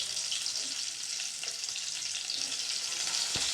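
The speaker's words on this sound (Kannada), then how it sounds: "ಇವಾಗ ನಾನು ಈರುಳ್ಳಿ ಎಲ್ಲ ಸ್ವಲ್ಪ ಕಲರ್ ಚೇಂಜ್ ಆಗೋ ತನಕ ನಾವು ಇದನ್ನು ಫ್ರೈ ಮಾಡ್ಕೋಬೇಕಾಗುತ್ತೆ" Onions fry in a pan as the base for egg rice, a loud, dense, unbroken hiss of hot oil with a couple of brief knocks near the end.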